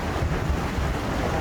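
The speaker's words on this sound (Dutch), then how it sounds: "Het is een waterval." Waterfall in Peru roaring as a steady, dense broadband wash of falling water, close and continuous throughout, with no voices over it.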